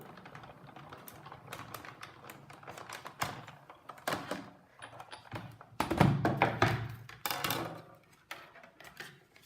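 A Big Shot die-cutting machine runs card through its rollers with a series of sharp, close clicks and thunks. The bursts turn louder and denser midway, then taper into scattered taps.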